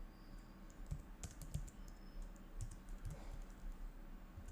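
Close, crisp keystrokes on a computer keyboard while entering Node.js code, irregular clicks and clacks in quick bursts over a quiet room hum, with no talking.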